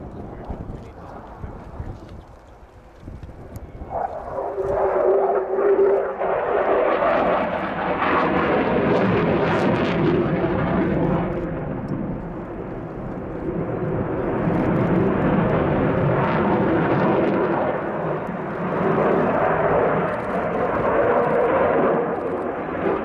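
A Belgian Air Component General Dynamics F-16AM Fighting Falcon roars through a flying display pass, a loud, sustained jet rumble that swells and holds for the whole stretch with no pause.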